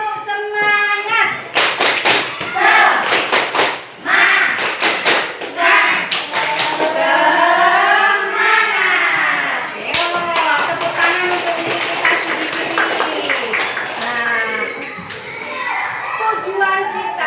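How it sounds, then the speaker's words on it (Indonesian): A school class does a rhythmic spirit clap, children clapping in patterned bursts with loud voices and chanting mixed in throughout, close and lively. "Kita tepuk semangat."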